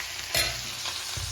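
Mustard seeds, asafoetida and green chilli sizzling in hot oil for a dhokla tempering, a close steady hiss broken by a couple of short stirring scrapes.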